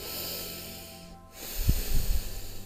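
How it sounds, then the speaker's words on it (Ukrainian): A person breathes in and out during a floor exercise routine, a soft airy inhale followed by a short sequence of closer, rougher nasal exhales, with no talk. "Вдих і видих, вдих."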